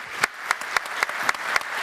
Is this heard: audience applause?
yes